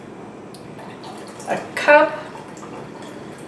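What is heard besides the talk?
hot water poured into pickling brine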